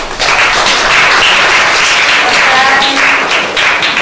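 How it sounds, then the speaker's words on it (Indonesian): An audience at a children's religious-speech contest broadcast by RKTV Bondowoso applauds a judge being introduced, with steady, dense clapping close by for several seconds. "beri tepuk tangannya"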